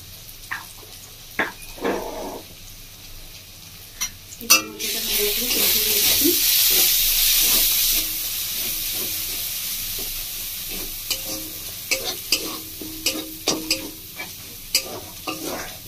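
Spice masala of ground coriander, turmeric and Kashmiri chilli powder frying in a pan on low flame, with a steady sizzle and repeated clinking stirs and scrapes of a spoon against the pan, close and fairly loud.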